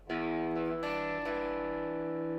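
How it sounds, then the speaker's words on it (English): Les Paul electric guitar with light crunch distortion rings out in sustained chords and notes, loud and close, with a couple of fresh strums over a continuous ringing tone and no talking. "I've got the Les Paul today and a little bit of crunch."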